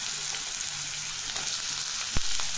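Carrots frying in a pan, a steady close sizzle that runs throughout, with a single sharp clack near the end.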